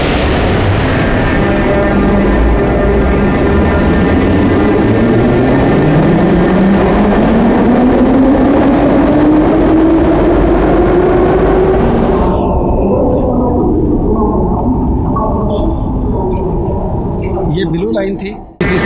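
A Tashkent metro train on the red line roars loudly throughout, its motor whine climbing steadily in pitch as it accelerates before the rumble eases toward the end; a voice can be heard faintly beneath the noise.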